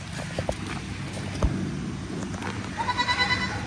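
A goat in heat bleats among other goats, giving short, nasal calls over a busy barnyard background with scattered hoof knocks, the bleating growing stronger and more wavering toward the end.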